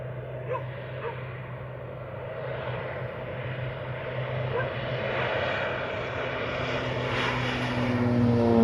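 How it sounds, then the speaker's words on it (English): A propeller-driven fertiliser plane flies over farmland, its steady engine drone building slowly louder as it draws closer, with faint speech under it. "Looks like the fertiliser plane's just coming through, so that was good timing."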